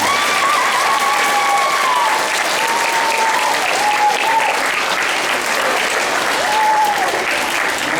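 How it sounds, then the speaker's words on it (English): Loud, sustained applause from a school audience at a fourth-grade program, dense clapping close by, with faint cheering or whistles rising above it at moments. "Let's give them one more round of applause."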